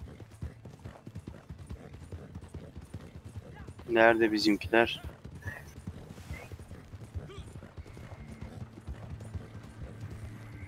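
Horse hooves clopping steadily as a horse pulls a wagon in Red Dead Redemption 2 Online, a faint continuous patter under game ambience, with a brief louder burst of voices and noise midway.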